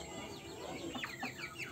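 On a backyard poultry farm, a frizzle rooster gives a few faint, quiet clucks and short calls against low background noise, with no talking.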